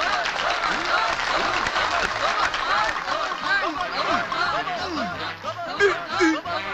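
Clapping and cheering from a small group egging on a mock dive, dense and continuous with laughter and excited voices throughout.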